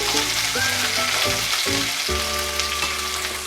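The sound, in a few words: green chili, ginger, garlic and onion frying in a pan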